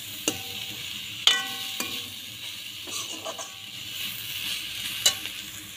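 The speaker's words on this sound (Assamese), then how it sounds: "আদাৰ পাত দিলে। অকণমান ভাজ খাব দিছোঁ।" Ginger leaves fry in a hot pan with a soft, steady sizzle. A few sharp clinks and scrapes of a spoon stirring against the pan stand out, fairly quiet and close.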